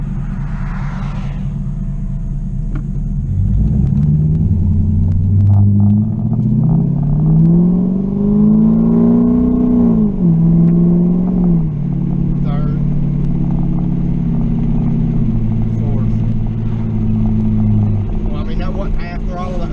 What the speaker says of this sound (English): We'll try it at half throttle about and see what it does.